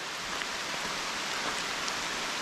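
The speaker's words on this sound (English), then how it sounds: "Rain has definitely picked up as well." Steady rain falls during a hike beside a flooded creek on a wet day, an even, dense hiss that continues unbroken with no voices.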